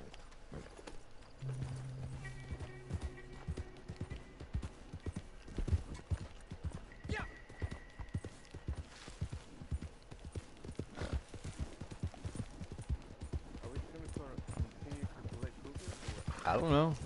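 Horse hooves clip-clop in a steady, close rhythm throughout a ride out after a cougar, with a brief whinny early on and people talking over the hoofbeats.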